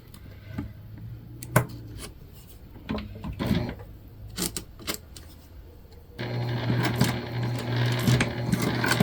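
A sewing machine stitching elastic onto a faux leather scrunchie, running in short back-and-forth bursts with clicks and handling noises, then a steadier louder whir near the end; no voices.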